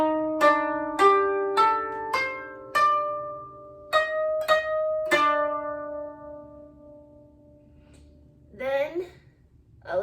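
A koto plays the opening phrase of Hana Ikada, a series of distinct plucked notes with ringing decay, a pause, and then a short trembling tremolo figure near the end, played close and alone.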